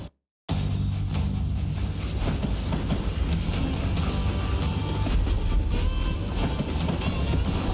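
A train rolls along the rails in the Call of Juarez: Gunslinger game with a continuous loud rumble and mechanical rattling after a brief silent start. No one speaks over it.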